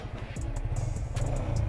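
A Yamaha Vixion motorcycle engine idles and revs while warming up, a close, steady low rumble with slight rises in pitch, no talk over it.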